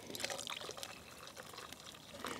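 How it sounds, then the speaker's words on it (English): Water is poured by hand into a camp coffee vessel at a lakeside cooking setup, making a soft, continuous trickling and splashing that stays faint and close throughout. "and pour a little bit more water in."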